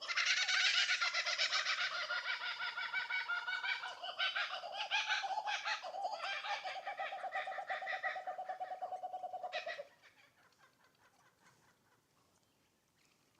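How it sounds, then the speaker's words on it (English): A kookaburra calling in the Australian bush, a loud raucous laughing chorus of rolling cackles that builds and runs for several seconds, then breaks off abruptly, leaving faint quiet background. "Gotta love those kookaburras."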